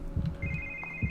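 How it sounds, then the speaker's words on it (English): A telephone rings in The Evil Within horror game, one short electronic ring tone heard up close, with low rumbling game ambience underneath. "Yes, answer the phone."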